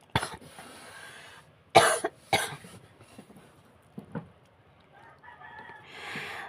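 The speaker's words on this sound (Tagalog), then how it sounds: "Hindi ko mapigilang hindi umubo." A person coughs close by, with two sharp, harsh bursts a moment apart and a softer throat sound later, in an otherwise quiet indoor space.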